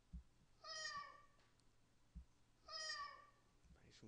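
A domestic cat gives two drawn-out meows a couple of seconds apart, clear and fairly close, with faint soft knocks between them.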